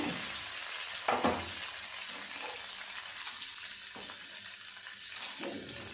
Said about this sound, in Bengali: তেলটা গরম হয়ে গেছে, পনিরগুলো দিয়ে দেব।